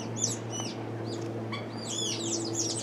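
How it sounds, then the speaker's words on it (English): Lapwings and mousebirds in a zoo aviary give repeated, fairly faint chirps and tweets, scattered calls rising and falling over a low steady background hum, no voices. "You got the lapwings in here and the mouse birds."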